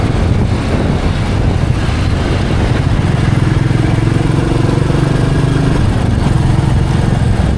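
A Royal Enfield Meteor 350 ridden at night through Hyderabad, its single-cylinder engine thumping in a low, steady drone close up, under heavy wind rumble, with no voices.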